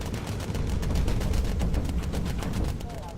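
A bomber's tail gunner fires a machine gun in Bomber Crew, rapid regular bursts of gunfire rattling continuously over rumbling aircraft and battle noise.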